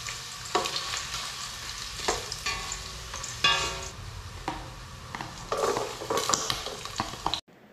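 Ginger fries in a pan, sizzling loudly and steadily close by while a utensil scrapes and clinks against the pan as it is stirred, until the sound cuts off abruptly at the end.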